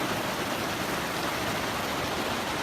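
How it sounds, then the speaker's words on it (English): Steady rushing of a river running alongside a Pacific Crest Trail hiking path in the Sierra, an even, continuous hiss of moving water close by with no talking. "Pretty river."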